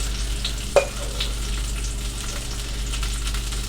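Sausage meat going into a hot pan during a mystery-ingredient cooking challenge, with one sharp knock as it lands and then a steady, even frying sizzle underneath.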